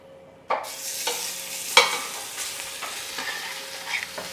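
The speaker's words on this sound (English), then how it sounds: "One of the things about searing, if your pan is really hot, your skin's not going to stick." Chicken pieces sear in a very hot pan for Basque-style braised chicken, a continuous sizzle punctuated by sharp crackling bursts as each piece lands, with occasional clinks; no talking.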